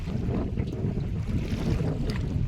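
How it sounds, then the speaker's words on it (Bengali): Steady, loud wind from a Kalbaishakhi storm roaring across a small river, with a continuous low rumble and faint splashing throughout. "যেমন নদীতে তুফান হচ্ছে তেমন হাওয়া"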